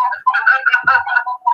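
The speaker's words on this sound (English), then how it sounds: "It's my phone." A mobile phone ringtone chimes loud and close, a melodic electronic tune repeating in short bursts with brief gaps between them.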